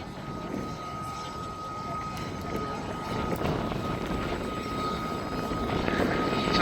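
Rich Goodwin's Jet Pitts aerobatic biplane, powered by two ATM Lynx gas turbine engines running on sustainable aviation fuel, performing at the Duxford Summer Air Show; a steady, moderately distant turbine roar and whine that swells slightly toward the end.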